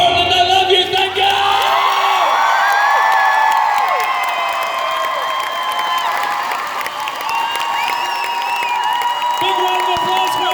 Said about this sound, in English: Big round of applause for our Steiners